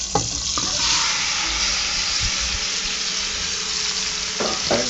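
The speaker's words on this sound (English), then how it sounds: "Now we're going to add our fresh tomatoes." Fresh tomatoes dropped into hot oil in a pan for a shrimp dish, bursting into a loud, steady hissing sizzle after a few clunks, with a brief scrape near the end.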